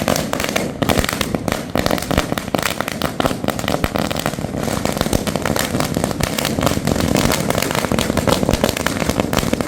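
Strings of firecrackers burst in a Palakkad street celebration, a dense, continuous barrage of sharp cracks and pops rattling loudly and without pause throughout.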